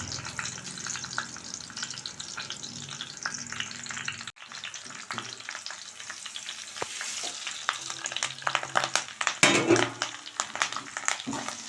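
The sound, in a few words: tempering spices frying in hot oil for tomato dal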